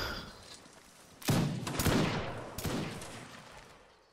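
Musket volley from a line battle in the video game Napoleonic Wars: a few loud, ragged gunfire bursts crackle over roughly two seconds, then trail off into a lingering rumble.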